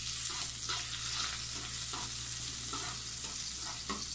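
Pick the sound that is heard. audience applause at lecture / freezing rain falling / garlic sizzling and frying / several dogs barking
garlic sizzling and frying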